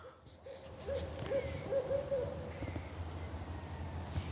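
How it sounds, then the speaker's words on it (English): An owl hoots in the background outdoors among spring trees, a run of soft, low, repeated hoots in quick succession, distant and fairly quiet over faint ambient noise. "I got an owl hooting in the background."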